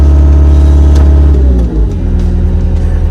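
Caterpillar skid-steer engine revs loud and close, holding a steady roar that dips briefly, then settles into a lower, rougher rumble.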